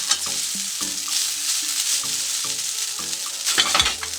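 Chicken and egg noodles stir-fry in a pan with a loud continuous sizzle, punctuated by rhythmic scraping and tapping of a utensil against the pan.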